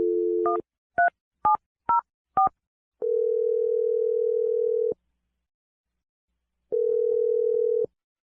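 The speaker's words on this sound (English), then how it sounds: "We're going to dial her phone number right now." A telephone dial tone breaks off into five quick keypad tones, then a long steady ringback tone, a pause, and another shorter ring, clear and close with no talking.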